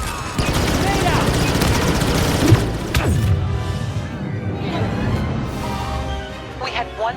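Grenade blast in Star Wars Battlefront co-op on Starkiller Base: a sharp crash around the two-and-a-half-second mark amid continuous loud gunfire and battle noise, with game voices over the mix.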